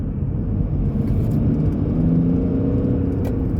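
An electric car pulls away from about 30 mph in traffic, giving a steady low road rumble and tyre whir with a faint rising motor whine, heard from inside the cabin and fairly loud throughout.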